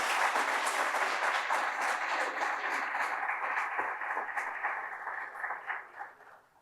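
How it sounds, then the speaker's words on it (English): Audience applause honoring colleagues at the Town of North Hempstead State of the Town address, a steady wash of many hands clapping in a hall that holds evenly before thinning and fading out at the end. "Let's have a round of applause for my colleagues."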